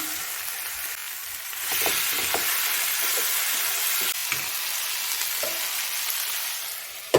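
Steady sizzling of fried pointed gourd with potatoes and small river fish in curry, with a spatula stirring and scraping through it, close up, no talk.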